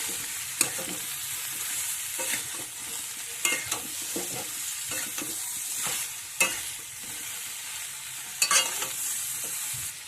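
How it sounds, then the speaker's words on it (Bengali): Singi fish and ground spices such as cumin and coriander being stirred in a frying pan, a soft continuous sizzle broken by repeated scraping strokes of the spoon at an irregular pace. "এবার ভালোভাবে একটু নেড়ে চেড়ে নেব।"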